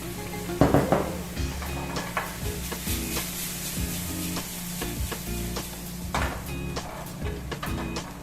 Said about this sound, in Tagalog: Lalagyan tayo ng beef broth.